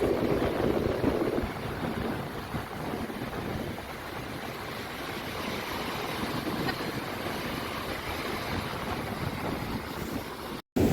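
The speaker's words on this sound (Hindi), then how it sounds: "let the waves hit you instead of going deep into the water" Ocean waves wash onto a beach in Goa in a continuous, broad roar of surf mixed with wind buffeting the microphone, steady throughout and briefly cutting out near the end.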